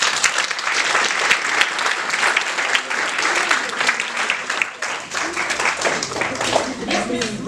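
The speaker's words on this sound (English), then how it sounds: "Clap for her." Sustained audience applause fills a storytelling performance venue, dense and steady throughout with a brief dip partway, crowd noise and voices mingling beneath the clapping.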